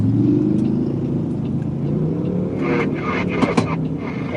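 Police trooper vehicles pull up at a scene in Washington, DC. A low engine rumble sits close by and idles steadily, then a few sharp clanks and knocks sound near the end.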